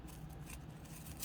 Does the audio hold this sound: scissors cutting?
yes